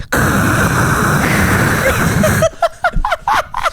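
A voice imitates a white noise machine with a steady, loud hiss held for about two and a half seconds, followed by talking.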